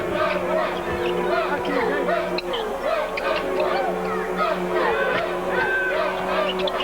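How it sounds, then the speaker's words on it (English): Sneakers squeak sharply and repeatedly on a basketball court during a 2004 Wisconsin vs Michigan State college game, over a steady murmur of voices and arena hum. "You can hear the sneakers squeaking."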